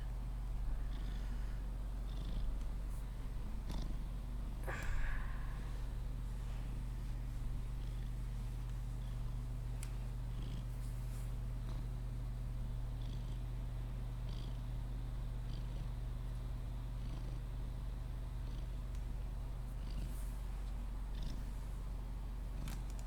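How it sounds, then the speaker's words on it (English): A cat purrs in a low, steady rumble that runs close and continuous for over twenty seconds, with a few faint clicks and knocks around it. "What you doing, cat?"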